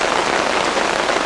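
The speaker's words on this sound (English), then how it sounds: "Within minutes of arriving at the camp, the rain returns with a vengeance." Heavy rain pours down at a jungle camp, a dense, loud, continuous hiss of drops on surfaces with no other sounds.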